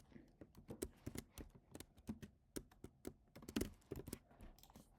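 Fingers type on a computer keyboard in quick, uneven bursts of close, crisp key taps that are fairly quiet and have no voices over them.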